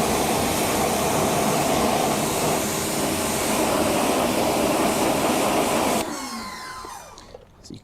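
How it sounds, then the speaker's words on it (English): Pressure washer spraying tyre cleaner off a car wheel, a loud steady hissing roar that holds for about six seconds, then cuts off, leaving a fading, wavering tail. "So we've got the pressure washer ready to go."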